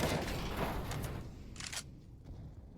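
Rapid overlapping gunfire bursts from several players shooting through smoke in a Counter-Strike match, dense and loud at first, then thinning to scattered shots toward the end.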